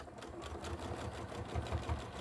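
A sewing machine stitches tote bag seams, sewing forward and doubling back in a fast, steady, rhythmic hum and patter that is fairly quiet and close, with no talk.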